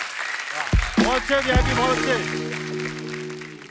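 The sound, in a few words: studio audience applause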